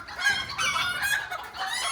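Chickens on a farm cluck and crow, a busy overlapping chorus of fowl squawks and calls close by that carries on without pause for two seconds.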